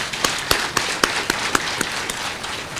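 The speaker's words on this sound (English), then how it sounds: "please join me actually in a round of applause" An audience at a university event claps, with distinct sharp claps landing at a steady beat over a dense background of applause that holds at an even level throughout.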